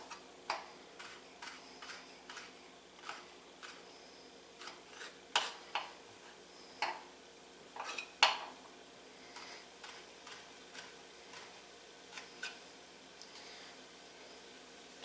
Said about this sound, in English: This last piece was kind of big, so I'm going to cut it.